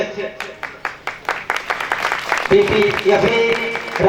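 Applause from a rally crowd welcoming the national president of a political party, first in separate bursts of clapping, then a dense, sustained ovation with a voice speaking over it.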